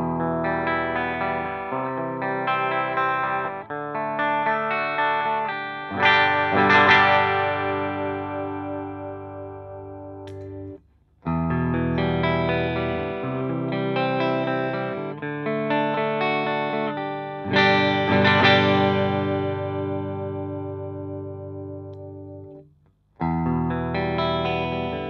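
A 2013 Gibson Les Paul Custom Silverburst electric guitar plays ringing chords and notes through chorus and echo effects, two similar phrases each fading out before resuming, close and alone.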